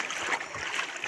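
Spring water welling up from the ground where a stake was driven in, a close, steady hissing rush of flowing water with a bright splashing texture throughout.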